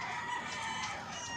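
A rooster crows alone, a steady drawn-out call held across the whole stretch at moderate, fairly close range with no talk over it.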